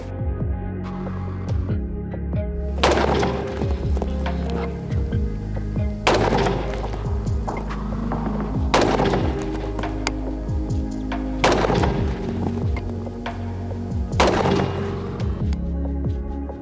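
Five loud, sharp shots from an AR-15 type carbine with a 14.5-inch barrel, fired at intervals of about three seconds over a constant low hum at an outdoor range.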